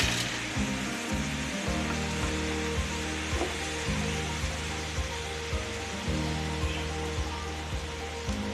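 Chopped onions sautéing in a pan for a Kerala-style chicken curry, giving a steady, close sizzle and crackle throughout, with soft stirring scrapes and no talking.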